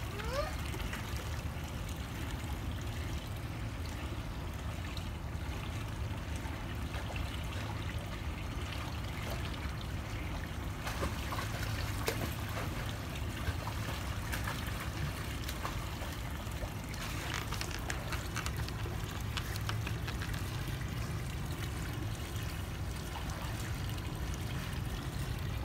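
Water splashes and trickles steadily around a child being bathed, a continuous close wash of sloshing and pouring that runs for the whole stretch at moderate level, with no voices standing out.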